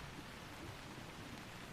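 Soft, steady rain falls in Tokyo as an even, low hiss, faint and unbroken, with no voices.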